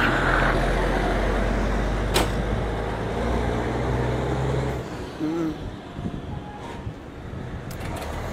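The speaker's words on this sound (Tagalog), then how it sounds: "Ito ang ating truck." A truck's engine rumbles steadily nearby under strong wind noise, then the rumble drops away, leaving gusty wind and faint background sounds.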